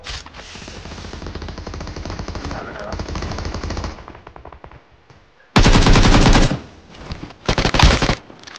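Bursts of automatic gunfire in the PUBG Mobile shooter game: a long run of rapid shots, a lull, then loud close volleys in quick succession with faint voices underneath.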